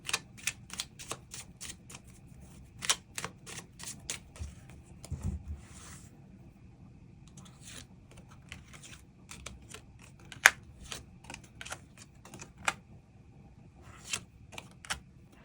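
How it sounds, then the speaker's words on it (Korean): Tarot cards being drawn and handled on a table, a long run of crisp, sharp snapping and flicking taps in quick irregular bursts, close and fairly loud, with no voice. "카드 뽑아보도록 하겠습니다"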